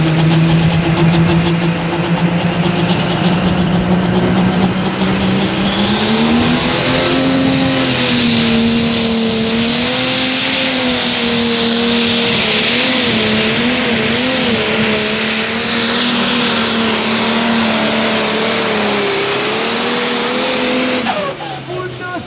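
Fendt 930 Pro Stock diesel pulling tractor revving loudly and steadily at the start line of a pull, its pitch climbing and wavering for about twenty seconds with crowd noise and an announcer talking underneath.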